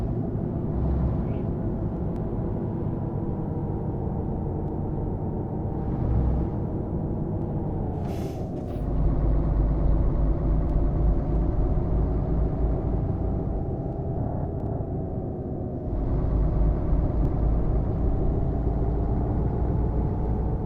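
A Mercedes Travego bus engine in Euro Truck Simulator 2 hums in a steady, loud, low drone that shifts pitch slightly as revs change, with brief air-release hisses between.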